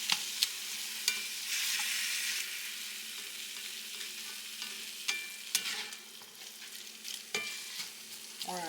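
Ground beef browns in a hot pan, a steady sizzle punctuated by repeated close scraping and tapping from a spatula stirring the meat.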